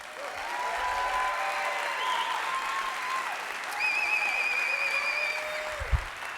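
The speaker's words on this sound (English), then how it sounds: "Let's give our stage presenters a big round of applause." An audience at the SVP Fast Pitch 2019 event gives the stage presenters a steady round of applause, a continuous wash of clapping with thin whistle-like tones riding over it.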